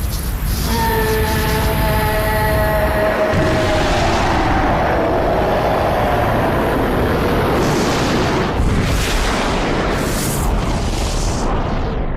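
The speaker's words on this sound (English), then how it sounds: "And despite exploding right there, Virgil somehow survives that." A loud explosion erupts during a Devil May Cry game cutscene. A rising tonal whine gives way to a heavy, sustained blast and rumble that continues at high volume.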